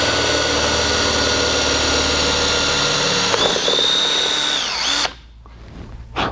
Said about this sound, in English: I'm gonna actually run my bit in reverse so I don't damage the gel coat.